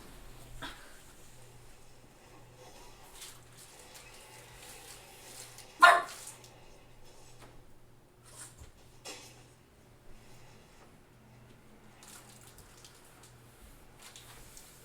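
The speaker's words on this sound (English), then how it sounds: "I'm going to retrieve the bat so he stops barking." A dog barks indoors in short, scattered bursts, with one sharper, louder bark standing out midway over a quiet room background and low steady hum.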